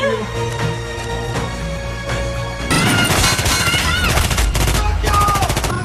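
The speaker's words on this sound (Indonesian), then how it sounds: "polisi langsung menghujani dirinya dengan rentetan tembakan" A dense barrage of rapid gunfire erupts midway over a tense musical score, continuing in loud, sustained bursts.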